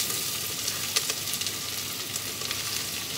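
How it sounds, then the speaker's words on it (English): Onions fry in hot oil on a boat's stove, a dense, even sizzle with a few small pops rising from it, close and continuous for a few seconds and free of talk. "Right, the oil is now got hot. Here's the onions that are going to go in."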